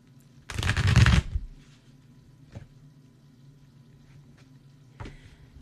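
Tarot cards being shuffled, a single loud riffling burst lasting under a second, followed by a few faint, isolated card taps in an otherwise quiet room.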